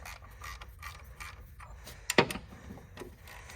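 A socket ratchet with a stubby socket cracks loose 18 mm bolts on a GM 2.4 Ecotec engine in a Chevrolet Captiva, giving soft clicking handling noises and then one sharp metallic crack, quiet and close.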